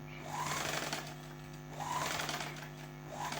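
A sewing machine stitches a boat-neck blouse design in quiet, close bursts, its rapid needle chatter swelling and fading in repeated runs with a steady hum underneath.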